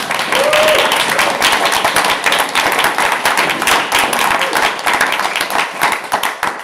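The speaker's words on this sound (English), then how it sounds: "Can we please give everyone a massive round of applause?" Audience applause at a student union election hustings on a university campus, a dense, steady clapping from a crowded room lasting several seconds, with a voice briefly audible through it.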